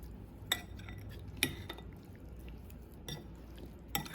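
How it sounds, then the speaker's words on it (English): Spoon stirring herb vinaigrette into a butter bean salad in a bowl, a few soft scattered clinks and scrapes over quiet background, no talking. "And I'm going to stir it in carefully."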